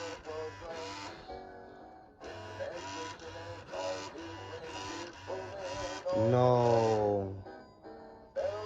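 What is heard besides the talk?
broken hip swing Santa toy mechanism noise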